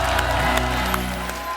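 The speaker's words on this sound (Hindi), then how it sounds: "जोरदार तालियां हो जाए।" Studio audience applause and cheering on a comedy show, a dense, loud wash of clapping and crowd noise with a steady tonal hum underneath, brief and continuous throughout.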